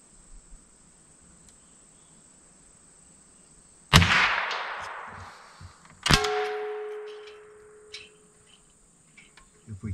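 Two sharp metallic pings a couple of seconds apart as bullets from a 1942 US Springfield M2 rifle hit a metal frying pan target, each ringing out briefly, over a steady high insect-like drone outdoors.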